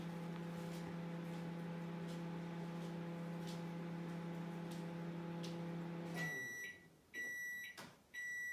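A microwave oven hums steadily while cooking a mug cake, then the hum stops and a series of loud, sharp electronic beeps sounds alone.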